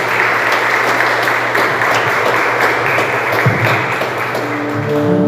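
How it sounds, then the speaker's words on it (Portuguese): A church congregation applauds the Lord at a Brazilian evangelical worship service, dense steady clapping filling the room with sustained tones from instruments underneath and no speech over it. "Você pode aplaudir ao Senhor"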